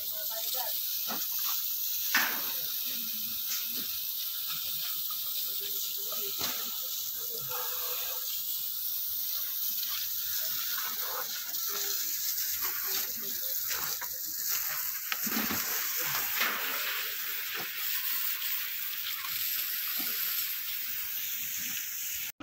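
Steady, close hiss of water sprayed over steel rebar at a concrete slab site in Cagayan de Oro, with scattered knocks and splashes and small shifts in the flow running through it.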